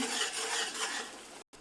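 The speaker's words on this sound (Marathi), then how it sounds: "ही ग्रेव्ही आहे ती सतत ढवळत राहायची आहे" Gravy with turmeric being stirred in a pan for aluvadi made from taro leaves, a steady close scraping and swishing that runs continuously, then cuts off briefly near the end.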